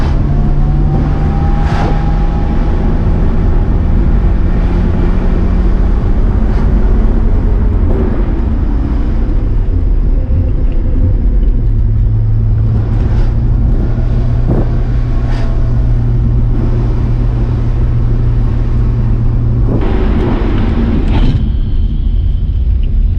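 A Nissan Skyline R32 GTR with an RB26 engine drives through a run of corners, a steady loud in-cabin rumble with engine tones that climb and drop as it speeds up and slows down.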